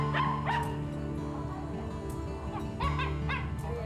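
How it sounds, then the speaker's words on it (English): A dog outdoors in a street gives a few short barks and yips over a steady background hum, fairly faint and distant, with no talking. "Today he plays in the streets outside his home with the one thing that has always brought a smile to his face,"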